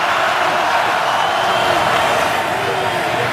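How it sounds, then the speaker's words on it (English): A football stadium crowd roars steadily for the Titans defense, a broad sustained wash of cheering heard at a distance under a commentator's voice. "Crowd getting into it for the Titan defense."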